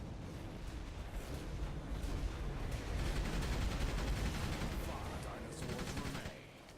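Sustained gunfire from the sci-fi shooter Orion Prelude, a dense continuous barrage of rapid shots that stays loud throughout and tapers off near the end, with no talk over it.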